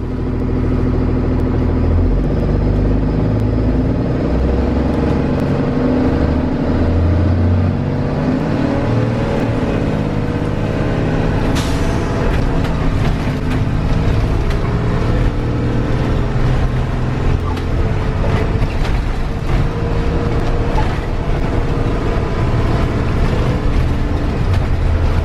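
A Thomas Saf-T-Liner C2 school bus drives along, its engine a loud steady rumble with road noise heard from the driver's seat, building and holding throughout.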